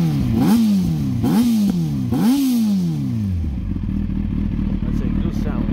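A 2003 Yamaha R6 Special Edition motorcycle with an aftermarket exhaust can, close by, gives three sharp rising throttle blips before settling into a steady, lumpy idle.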